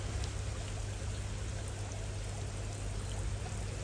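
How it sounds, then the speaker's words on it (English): A rain shower pours steadily into an outdoor koi pond, a dense constant hiss and patter of falling water, loud and unbroken with no talk. "The shower's come round now."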